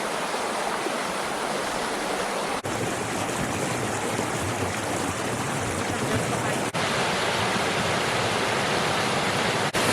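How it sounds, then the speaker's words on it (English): A small waterfall at the start of a ski or hiking trail pours in a continuous, close, full rushing roar of water that holds steady for about ten seconds, with no talk. "Checking out this little waterfall here right at the start of the ski trail or hiking trail"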